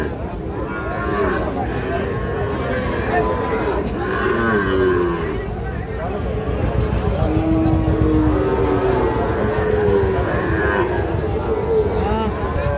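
Young Shahiwal calves and other cattle moo repeatedly at a busy calf market in Narsingdi, the lowing mixed with murmuring voices of buyers and sellers nearby.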